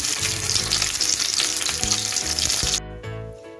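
Tomatoes fry and soften in a pan over low gas, giving a loud, constant sizzle that is briefly stirred before it cuts off abruptly near the end.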